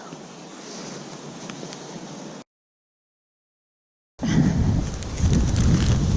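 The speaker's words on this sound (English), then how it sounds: "It's really windy today." Strong wind buffets the microphone outdoors with a steady broadband roar, cuts out briefly, then returns louder and gustier.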